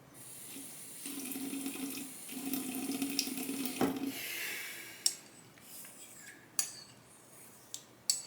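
Water is added onto a Chinese natural hone while a Shumate straight razor is honed: a soft, steady trickling hiss with faint clinks, then a few sharp ticks near the end, fairly close and with no talk.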